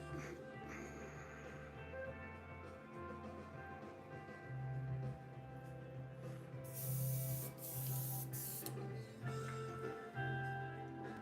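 Airbrush spraying highlight paint onto a painted model figure of the Mandalorian Shae Vizla, a steady close hiss with a louder surge partway through.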